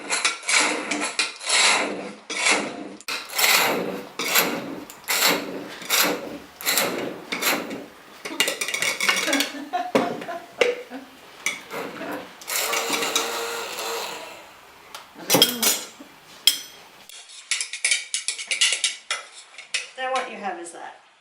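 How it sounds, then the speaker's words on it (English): A whisk beats a mixture containing coconut sugar and dried cranberries in a bowl, producing quick, close scraping clatters against the sides in uneven bursts with brief gaps. "Whisk that all together."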